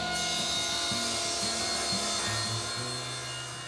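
Birch veneer plywood sheets, 4x8 in size, being sawn into smaller cabinet parts for a pull-out pantry. A loud, steady cutting noise runs throughout with a few short tonal shifts and no speech.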